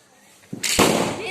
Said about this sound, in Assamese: বম আৰু চেৰকি এতিয়া দুটামান ফুটাও